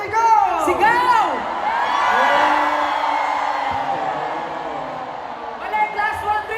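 A large anniversary-event crowd of fans shouts and cheers together, a sustained loud roar with whoops and yells, rising at the start and end with voices calling out over it.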